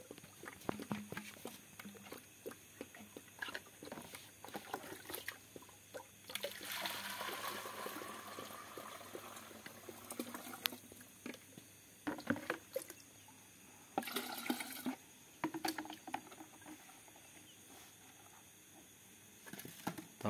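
Water trickles and patters softly as it is poured for newly arrived chicks on a poultry farm, faint and intermittent with small splashes.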